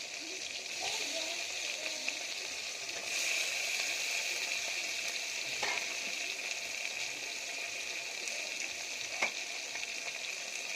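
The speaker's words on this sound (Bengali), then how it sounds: "মশলা কষার সাথে চিংড়িটা কষে নেবে" Shrimp sautéing in spice masala in a pan, a steady close sizzle and fry with occasional stirring scrapes, moderately loud and continuous without talk.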